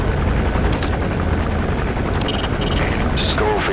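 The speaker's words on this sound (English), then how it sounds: "Skullface's chopper is there." Helicopter in Metal Gear Solid V, Skullface's chopper at the OKB Zero base: a steady, loud rotor roar with broad whooshing noise that stays constant throughout, with brief higher-pitched hisses and clanks layered on top.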